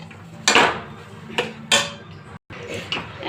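Lentil fry in a pan being mixed with fried spice, giving several sharp scraping clatters of a spoon against the pan at irregular intervals, close and fairly loud, with no talking.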